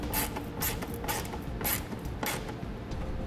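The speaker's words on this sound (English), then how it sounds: "Now we can just tighten them all down." Curt 2-inch Class 3 trailer hitch receiver bolts being tightened on a 2007 Ford Freestyle, giving repeated bursts of ratcheting wrench clicks at a steady rhythm, close and moderately loud with no talk.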